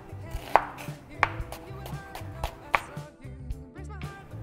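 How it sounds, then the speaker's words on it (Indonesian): Knife chopping an onion into small pieces on a cutting board while making mushroom risotto, a series of close, sharp, irregular chops and taps. "Bawang bombay kita pakai kurang lebih setengah. Kita potong dice gitu."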